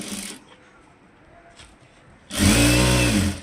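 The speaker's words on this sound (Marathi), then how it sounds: "एक पलटी करून शिलाई मारून घेते मी, आणि असेच त्या साईडचं बी करून घेते." Electric sewing machine stitching a seam on a size 28 princess-cut blouse, a short burst early, then a loud steady whirring run near the end with a quiet gap between.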